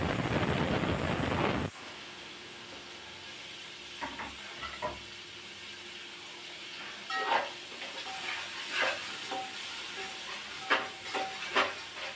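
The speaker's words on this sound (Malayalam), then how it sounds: "സവാള ഇട്ടിട്ട് നന്നായിട്ട് വഴറ്റിയെടുക്കുക" Onions sautéing in a pan with ginger, green chilli and garlic: a loud burst of hiss at the start, then a steady softer sizzle broken by occasional spatula scrapes and stirring, close up with no talk.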